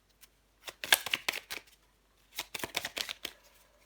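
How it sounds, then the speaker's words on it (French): Tarot cards shuffled by hand in two bursts of crisp riffling and flicking, close and fairly quiet, with a short pause between and no talking. "Je prends encore une carte pour vous."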